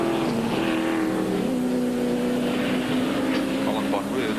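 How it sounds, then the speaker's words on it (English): A V8 Chevrolet Camaro race car engine roars steadily at Amaroo Park, its sustained drone mixed with other racing engines, loud and continuous under a commentator's voice. "Collin Bond really throwing that big Camaro around with gay abandon."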